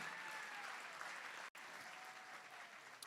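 Applause fills a charity gala hall after an auction lot is sold, a thick, even wash of clapping from a crowd, briefly cut by a short dropout mid-way.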